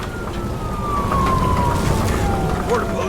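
Police car siren in the video game Nobody Wants to Die, a falling wail heard fairly loud over rumbling game noise.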